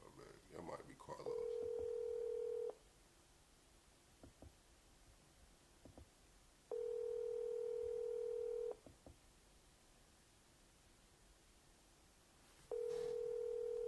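An outgoing telephone call rings out, with three long, steady electronic ringback tones separated by pauses of several seconds, a few soft clicks and quiet line hiss in between.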